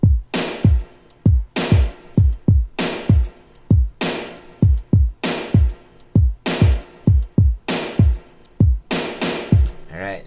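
A trap beat programmed in FL Studio, with booming kick drums that fall in pitch and crisp hi-hat and percussion hits, looping in a steady, punchy pattern throughout.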